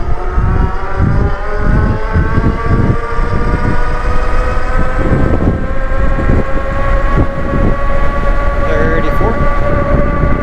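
Ariel Rider XClass electric bike at full throttle downhill, a loud continuous rush of wind and rolling noise with a rising tonal whine, steady from start to finish.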